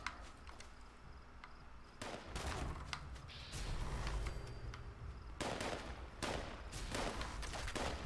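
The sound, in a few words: gunfire in video game Fallout 76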